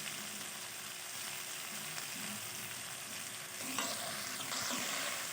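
Okra fries in a pan for home-style dahi bhindi, giving a steady broadband sizzle with soft stirring scrapes and a few utensil clinks near the end, fairly quiet and with no voices.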